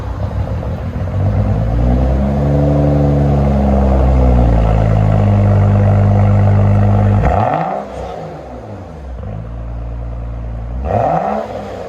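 A 2011 BMW 335i with a true dual straight-piped exhaust, catalytic converter retained, revs loudly up close: a long sustained high rev, then two sharp throttle blips falling back to a rumbling idle, with no voices.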